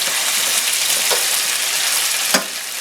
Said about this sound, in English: I just want to sear this on both sides.